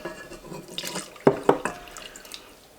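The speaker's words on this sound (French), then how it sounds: "Donc on ajoute l'eau, l'huile" Water poured into a bowl for ciabatta dough, a short splashing trickle with a few distinct drip-like plops, close and moderately quiet.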